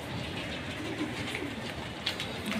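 Soft cooing of imported German Dilber pigeons in a loft, faint repeated low coos over a constant rustling background hiss.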